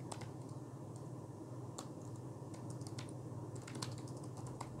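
Computer keyboard typing HTML code for a landing page, a steady run of quick clicky keystrokes with no talk over a constant low hum.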